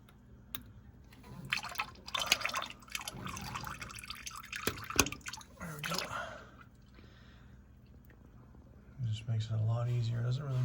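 Engine oil drains from a 2018 Toyota Tundra with a trickle and scattered drips, while someone talks over much of it and a steadier pour rises toward the end.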